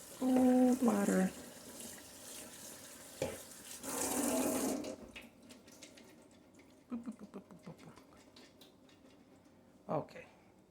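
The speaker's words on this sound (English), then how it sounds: "We're gonna need to run some cold water over this." Cold water from a tap splashes over tomatoes in a sink, a hissing gush midway followed by scattered drips and clatter, with a voice speaking briefly at the start.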